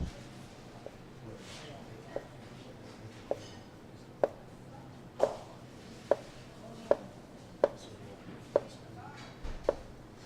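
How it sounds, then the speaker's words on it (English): A sharp knife cutting sheets of fresh pasta on a board, about a dozen crisp, evenly spaced knocks close by, with quiet movement between them. "we're just gonna start cutting our pasta"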